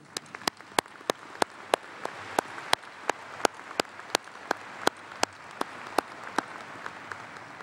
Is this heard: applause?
yes